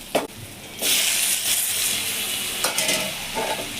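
Tomatoes drop into hot oil with ginger garlic paste, bursting into a loud close sizzle after an initial clatter, then a steady hiss with brief stirring scrapes.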